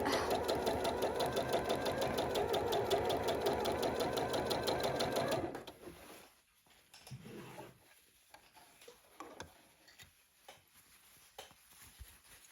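A sewing machine stitching quilt binding hums in a fast, steady, close whir for about five seconds, then stops, leaving quiet handling of fabric and small clicks.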